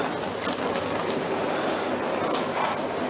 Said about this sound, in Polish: I zmywarka pracuje z pełną mocą.